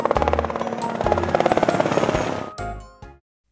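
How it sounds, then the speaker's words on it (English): A helicopter flying overhead, its rotor blades chopping in a steady rapid thump over a loud engine whine, heard alone until it cuts off abruptly near the end. "It's a helicopter. A helicopter flies up in the sky."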